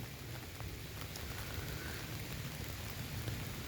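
Steady rain falling outdoors at night on short grass and bracken, a dense, even hiss of drops with scattered louder ticks, continuous and fairly close throughout.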